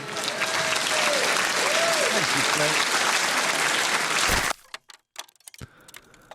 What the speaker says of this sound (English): Oh, round of applause for that.